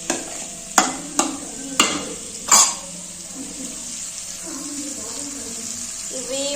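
Eggs fry in a pan on a low flame while being stirred, with four sharp scraping strokes of a spoon over a soft, steady sizzle and a faint voice in the background.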